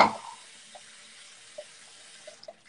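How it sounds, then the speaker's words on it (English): A home bathroom tap runs in the background, a faint steady hiss of flowing water with a few soft splashes and no voices. "Sorry, that's my water running."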